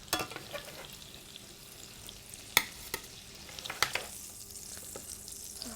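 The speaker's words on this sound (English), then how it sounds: "we have our last steak on the grill, and we're about to pull it off" An unseasoned flat iron steak on a George Foreman grill, heard as a steady close sizzle broken by a few sharp clacks and scrapes.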